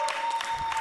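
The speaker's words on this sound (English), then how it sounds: "Keep it going, guys. Keep it going. Clap for them." Brief burst of audience applause for a church choir, a dense patter of many hands clapping close by, with a voice faintly mixed in.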